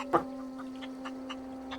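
A chicken clucks in the video game The Outer Worlds, one louder cluck followed by several soft, spaced clucks over a steady electronic hum.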